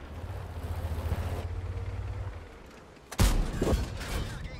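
A low engine rumble fades out. Then one sharp, heavy 105 mm tank cannon blast from the ASTRON Rex in a video game booms loudly, followed by a brief rumbling tail.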